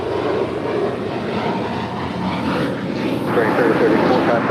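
At LAX a heavy airliner inbound from Seoul touches down on runway 25 left. A distant, broad jet roar swells toward the end, mixed with radio chatter and nearby talk.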